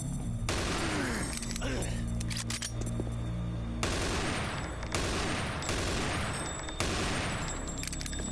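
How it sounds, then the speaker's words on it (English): Sustained, dense gunfire from the sci-fi shooter DOOM 3, set in the Mars City underground, rolls continuously at close range with heavy booming bursts and rapid repeated shots. "That is a lot of bullets."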